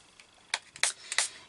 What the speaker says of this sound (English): give it a good spritz to get it moving about even more